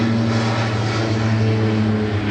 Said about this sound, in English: I have not seen that damn helicopter yet either.